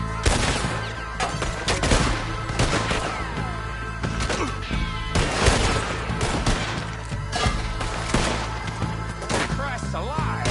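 Heavy gunfire in Red Dead Redemption 2, dense overlapping shots and impacts in a chaotic, continuous firefight with brief shouted voices mixed in.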